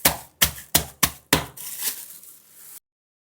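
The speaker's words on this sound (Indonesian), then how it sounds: "kita potong-potong dulu ini ketannya ya" A knife cuts pounded black glutinous rice (ketan) into pieces on a board, five sharp, evenly spaced chops up close followed by a softer dragging cut.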